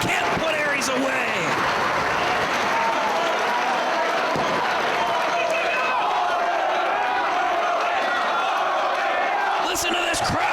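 A loud wrestling crowd at the ROH 6th Anniversary Show in 2008 roars and applauds in a dense, continuous wall of noise, with commentators talking over it.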